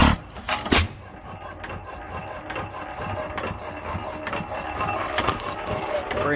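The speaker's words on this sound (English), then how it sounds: "Very nice running engine." A Simplicity Turner 8 hp hit-and-miss engine runs with a steady, even chuffing beat about twice a second, a rhythmic mechanical puffing with a couple of louder knocks at the start.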